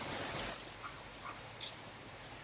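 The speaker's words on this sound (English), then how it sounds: "It's rain. Hear it?" Steady rain falling outdoors, picked up through an outside microphone as a soft continuous wash with faint scattered drop sounds, low in level and with no one talking.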